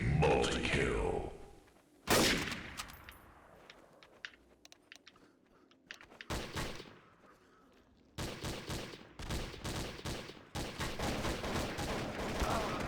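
Counter-Strike: Source match gunfire, a sharp close shot followed by scattered single shots and then several rapid bursts of automatic fire, loud against quiet game ambience, with no talking.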